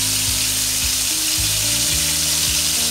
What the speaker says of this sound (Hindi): थोड़ा सा जीरा भूनने देंगे।